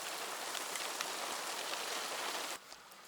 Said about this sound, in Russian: Дождик вроде бы успокаивается. Чуть-чуть моросит.